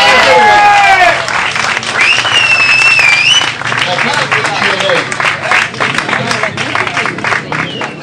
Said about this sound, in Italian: che si merita ovviamente un altro applauso